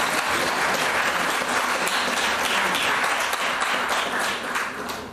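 An audience in Turku applauds prayer intercessors at a Christian gathering, dense continuous clapping from a large crowd at full strength throughout, tapering slightly in the final second.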